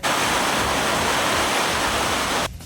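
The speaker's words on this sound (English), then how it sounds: "the Meridian and the other power generators have to spill this water into the rivers in the upper catchment" Excess water spilling from the Benmore and Aviemore hydro dams in the Waitaki catchment roars as a loud, steady broadband rush, close and continuous, then cuts off abruptly near the end.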